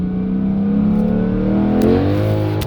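A Mercedes-Benz SLK55 AMG engine pulls hard in first gear, its loud, steady drone climbing smoothly in pitch as the revs build, close up and with no talking.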